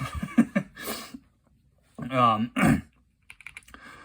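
Quick clattering keystrokes on a Cycle 7 mechanical keyboard fitted with flex-cut strips, heard in short bursts at the start and end, with a person's voice and brief laughter in between.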